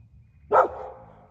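A single sharp dog bark rings out nearby after the dog has chased off deer, followed by a short fading tail and a quiet background.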